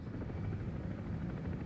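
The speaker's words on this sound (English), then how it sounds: "Well, I'm pretty sure that's a helicopter" A War Thunder helicopter's rotor drones steadily, a low pulsing beat held at an even, moderate loudness with no voices over it.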